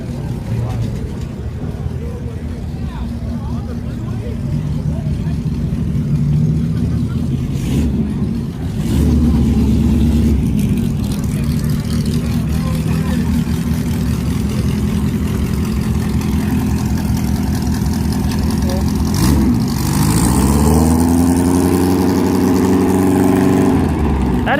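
A loud car engine idles and revs, rising and falling in pitch, with a surge near the end and people talking over it.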